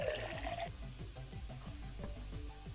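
Water runs into a bottle in the Mother Simulator video game, a soft watery pour under a layer of game music with a repeating rhythmic pattern, alongside a brief higher tone at the start.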